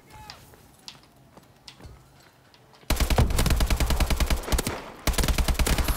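Automatic gunfire in Call of Duty: Advanced Warfare multiplayer: sparse shots and clicks at first, then loud rapid bursts of machine-gun fire that break briefly and resume, close and dense.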